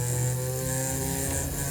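Rotary tool fitted with a small ball burr works a piece of jewelry, a loud continuous high-speed whine with a steady motor hum, close and unbroken throughout.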